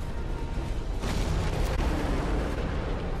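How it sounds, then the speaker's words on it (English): A fire slam attack in Dark Souls 2 lands as a broad, rumbling burst of flame and impact, with a muffled boom swelling about a second in over steady game noise. "Another fire slam."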